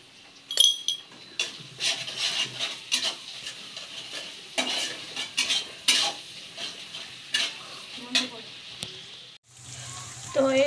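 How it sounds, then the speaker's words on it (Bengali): Dried fish and onions frying with turmeric and salt in a pan, with repeated scraping and stirring strokes over a steady low sizzle, close and fairly loud, with a brief voice near the end. "শুটকিটা ভালো করে ভেজে নিয়েছি আর পেঁয়াজটাও ভাজা হয়ে গেছে"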